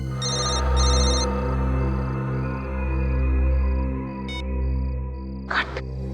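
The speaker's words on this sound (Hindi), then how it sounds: "उस तरफ से आवाज आ रही है फोन की।" A telephone rings in repeated bursts over a loud, low pulsing drone, the electronic ring tone clear and close, with a brief rustle near the end.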